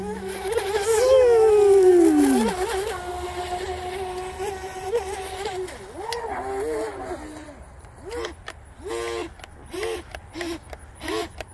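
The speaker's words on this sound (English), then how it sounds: "Oh, this is a perfect pond for this, for a little boat like this." A Henglong Tornado 17-inch self-righting brushless RC boat runs on a weedy pond, its high whining motor rising and falling in pitch as it speeds and turns, near then farther off in short bursts.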